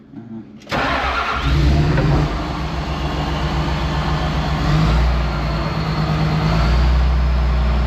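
An ex-military John Deere 850J dozer's diesel engine cranks and catches abruptly, then settles into a loud, close, rumbling run with slight rev swells, voices heard over it.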